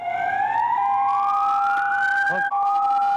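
A long, loud memorial siren for Atatürk in Turkey wails, rising slowly in pitch and holding steady, continuous throughout with a brief dip near the end, heard alone without talk.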